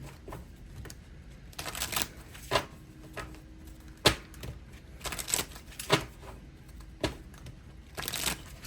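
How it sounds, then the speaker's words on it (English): Crisp papery riffling and snapping in several quick bursts, like a deck of cards being shuffled up close, with brief pauses between runs. "And I'm going to shuffle these up real good."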